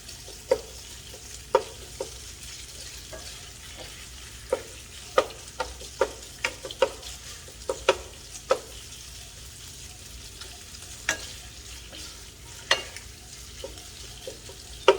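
Meat stir-frying in oil with ginger, garlic and shallot, a steady soft sizzle broken by sharp scraping clicks of a utensil tossing the pan, close and moderately quiet with no talking.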